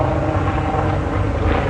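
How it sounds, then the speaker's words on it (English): An attack helicopter passes overhead with a loud, throbbing engine and rotor roar that holds steady and near throughout, with no talk over it. "That's an attack helicopter."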